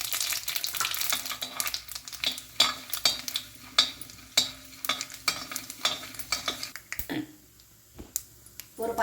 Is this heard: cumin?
yes